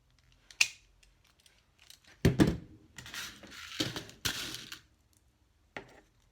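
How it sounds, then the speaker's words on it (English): Holes are punched through fabric for rivets while a mini box tote is sewn, a few sharp crunching clicks and thunks close by, the biggest cluster of hits in the middle followed by one last punch near the end. "And then we are going to punch our holes."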